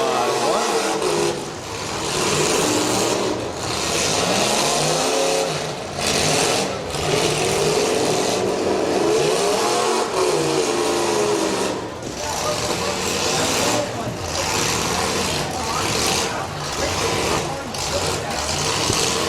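Demolition derby car engines rev and roar continuously, loud and near, pitch rising and falling as they strain, while an announcer talks over them throughout.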